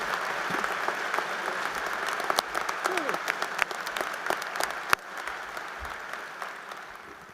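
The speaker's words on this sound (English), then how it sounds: "Could we get another round of applause for those wonderful words from Secretary Redding?" A commencement crowd at a university College of Agricultural Sciences ceremony gives a sustained round of applause, steady dense clapping with a few sharper claps standing out, easing slightly toward the end.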